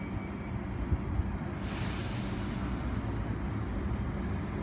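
A Port Kembla passenger train departing a station, with a steady rolling rumble of wheels and a hiss that rises partway through, continuous and fairly close.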